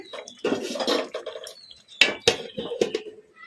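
A plate used as a lid lifted off a pan of chicken fry, giving a few sharp metallic clinks and scrapes amid soft kitchen clatter, close and fairly loud.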